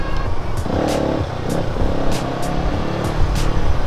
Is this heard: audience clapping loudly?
no